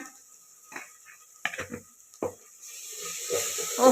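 Tilapia fish frying in a pan while being stirred, with sporadic scrapes and clatters of a utensil against the pan, then a rising sizzle, close and moderate in level.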